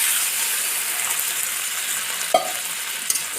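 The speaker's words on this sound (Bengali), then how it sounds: "জল দিয়ে দিচ্ছি।" Fried spices for a rohu fish curry hiss in a pan as water goes in. The sizzle is bright and continuous, with a sharp clink partway through and another faint tap near the end.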